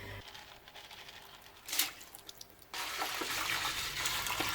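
Hot water pouring into a multi cooker pot for rice, a soft splashing stream that starts faintly, swells briefly, then settles into a steady continuous pour, quiet and close.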